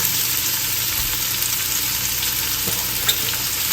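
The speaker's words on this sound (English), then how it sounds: "Saute this up. Everything nice and brown, then we're going to take it out of the pan." Food sautés in a pan with a strong, even sizzle, close and loud, carrying a faint high whine and an occasional soft tap of a utensil.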